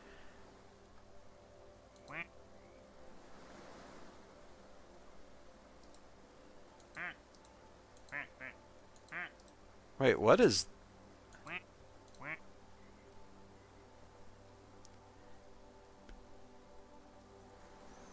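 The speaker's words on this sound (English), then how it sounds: "Some of the ducks are getting in here now." Cartoonish duck quacks from a video game, a few short calls scattered through the stretch with one louder burst near the middle, heard under a person talking over quiet game background.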